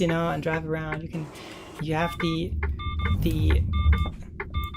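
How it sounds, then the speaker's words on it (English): Repeated short electronic beeps from the blind spot warning of a coach bus in the Heavy Vehicles Turkey driving game, sounding in regular bursts under a low engine rumble while someone talks over them. "the beeping, is a little indicator that there is something in your blind spots"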